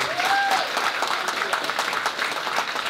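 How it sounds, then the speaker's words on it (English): An audience at a cancer charity event applauds warmly for a sponsor, dense rapid clapping filling the room at close range, with a brief whistle near the start. "Come on, a big round of applause,"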